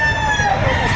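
Rooster crowing among chickens behind SM City Lipa in Batangas, one loud, close, drawn-out call filling the short moment.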